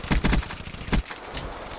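Rapid bursts from the XMC gun in Call of Duty: Black Ops 3, a quick volley of close, punchy shots followed by one more single crack, then quieter game noise.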